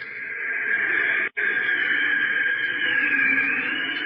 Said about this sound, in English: That's the artificial wind your car creates when you're driving around 30 miles an hour.